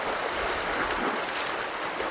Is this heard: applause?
no